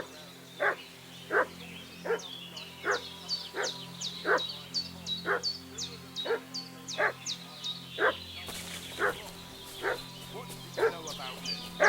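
Dog barking in Kingdom Come: Deliverance II, a steady run of sharp, evenly spaced barks about once a second over a low ambient hum, with a brief brighter hiss near the end.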